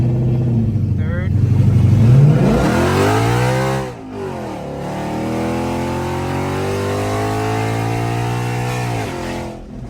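A tuned, full bolt-on second-generation car accelerates hard through third gear: a loud, close engine note climbs steadily, drops briefly at a shift, then climbs again in a long, strained rising howl.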